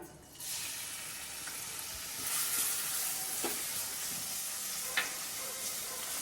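Chopped garlic hits hot oil in a pan and sizzles steadily, a bright crackling hiss with a few soft clinks of a spoon stirring.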